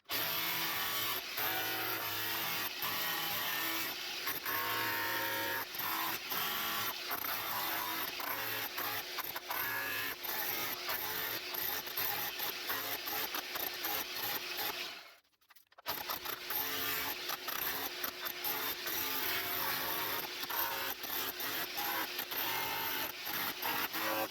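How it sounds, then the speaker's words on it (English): A big electric breaker chops a hole into a wall during shower room first-fix pipework, giving a loud, continuous rapid hammering rattle that pauses briefly once, then resumes. "I've got to get my big breaker out because my battery one doesn't seem to break into it too well, so I'll give it a bit of a chop"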